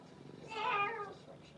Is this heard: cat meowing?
yes